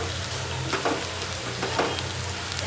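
Onion frying in a pan, a steady close sizzle with occasional stirring scrapes, no voices.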